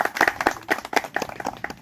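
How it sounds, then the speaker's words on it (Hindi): A small outdoor crowd at a village forest festival gathering claps, the handclaps close and uneven, coming in irregular bursts rather than a smooth roll. "तो एक बार जोरदार इनके लिए तालियां बजाएं।"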